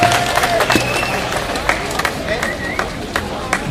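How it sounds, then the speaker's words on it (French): An outdoor crowd at a Fête des Patriotes rally in Québec applauds, a scattered mass of claps with sharp individual hits over a murmuring background of voices and cheers. "Donc, on les applaudit bien fort."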